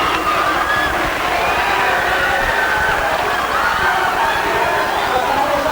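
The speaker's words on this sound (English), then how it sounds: "The crowd loves it, too." Crowd noise at a 1986 high school basketball game between Mark Morris and Mt View fills a gym with dense, continuous cheering and hubbub, loud and unbroken throughout.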